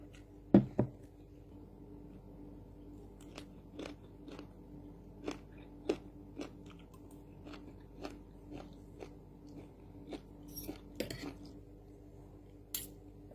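Close, crisp bites and chewing of young leucaena shoots (yod krathin) dipped in a thick sauce. The crunches come at intervals over a quiet background, with a few louder clicks and no talking.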